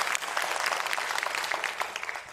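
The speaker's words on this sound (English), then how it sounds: "Let's give one more big round of applause" A crowd applauds steadily, many hands clapping in a dense patter that holds fairly even and then tapers slightly at the end.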